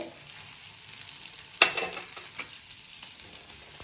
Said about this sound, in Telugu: అందుకే ఇగో జీలకర్ర వేస్తాను.